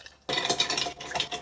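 Ice clinks and swirls against a glass as a Martinez cocktail is stirred, a brief, close, bright tinkling in quick irregular strokes after a moment of quiet.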